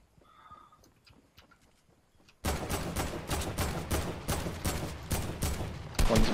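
Fortnite gunfire, a few faint distant shots, then a sudden loud run of rapid, evenly spaced shots continuing to the end.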